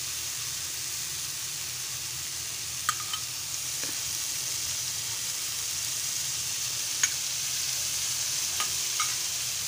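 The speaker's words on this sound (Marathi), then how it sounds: "आता मी अजून बाजूतून थोडंसं तेल सोडते, कारण की बोंबील मासे बुळबुळीत असल्यामुळे तेल जरा जास्त लागतं।" Bombil fish (Bombay duck) frying in extra oil in a pan, a constant soft hiss and sizzle with occasional small spatula clicks and pops, no talking.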